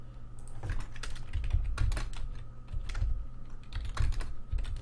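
Steady, close typing on a computer keyboard during a budget Commander deck-building session for The Mimeoplasm with Birthing Pod, the keys clattering in quick irregular bursts over a low background hum with no talk.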